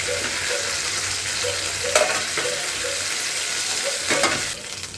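Prawns fry in ghee for a restaurant-style roast, a dense, loud, steady sizzle with a few louder scraping bursts as they are stirred in the pan.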